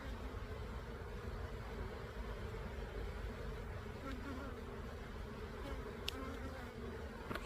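Honeybees hum in a dense, continuous buzz around an opened beehive during a beekeeping inspection, a close, steady drone with occasional individual bees passing near.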